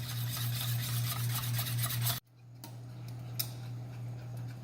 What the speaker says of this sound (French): on va mélanger sans arrêt jusqu'à ce que ce soit l'épaisseur qu'on veut